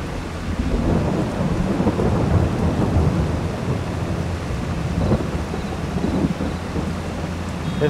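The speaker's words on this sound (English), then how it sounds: "Here comes the rain." Steady rain and rolling thunder in the Farming Simulator 22 video game: dense, continuous rainfall with low rumbles swelling through it, loud and even from start to finish, with no voices.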